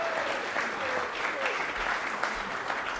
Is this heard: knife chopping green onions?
no